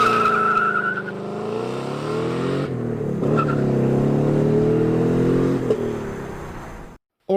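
A muscle car engine, likened to a 1968 Dodge Charger, revs loudly and up close for about seven seconds, its pitch rising and falling through several throttle blips before cutting out abruptly.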